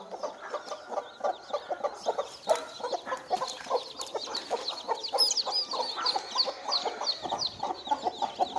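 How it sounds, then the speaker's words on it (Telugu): Three native hens fighting over chicks cluck steadily and rhythmically at close range, with dense overlapping calls running for several seconds and no talk. "3 కోళ్ళు ఉన్నాయి, పిల్లల కోసం కొట్లాడుతున్నాయి"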